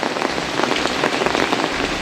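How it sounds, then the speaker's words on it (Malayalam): Heavy rain pours steadily outdoors, a dense continuous hiss of drops drumming on surfaces with no voices, loud and unbroken throughout. "പുറത്ത് നല്ല മഴയാണ്."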